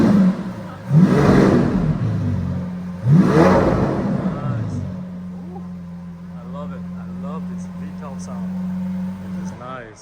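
A Lamborghini Countach LPI 800-4 with a 6.5-litre V12 gives two loud, sharp revs that rise and fall close by, then settles into a steady idle hum while someone talks over it.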